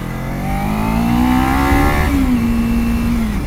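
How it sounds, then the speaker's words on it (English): Kawasaki Ninja 300 motorcycle engine revving up close, a steady throaty drone that climbs in pitch, drops sharply midway, then holds at a lower idle-like tone before fading. "I like the sound of it. It's not too noisy, but it's throaty."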